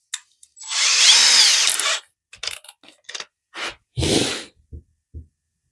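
A power drill bores screw holes into the base of a homemade router circle-cutting jig: one loud, close whirring burst of about a second, followed by scattered clicks and short bursts of handling noise.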